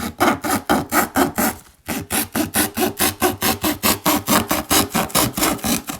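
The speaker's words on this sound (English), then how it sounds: "I'll just do a simple sawing motion" Rapid, rhythmic back-and-forth sawing through cardboard with a handheld cardboard cutter, close and loud, with one brief pause before the strokes resume at a steady pace.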